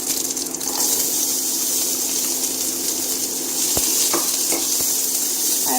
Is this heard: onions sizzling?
yes